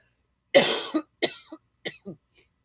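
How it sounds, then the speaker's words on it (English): A single close cough followed by a few fainter, trailing coughs, each burst short and raspy, with silence around them. "excuse me, I got a cough."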